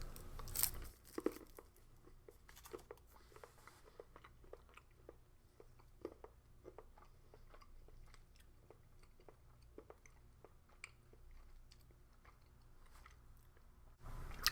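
Close, quiet chewing and crunching of a 43% cocoa chocolate bar and biscuit from a Portuguese navy 24-hour combat ration, with steady irregular bites and crunches throughout and no talking.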